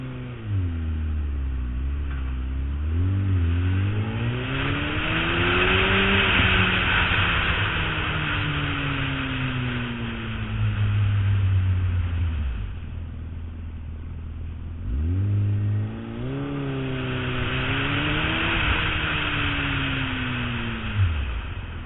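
Suzuki Hayabusa motorcycle engine running and riding off, a loud steady drone with rising and falling revs as it pulls away, shifts and accelerates again, heard close and alone.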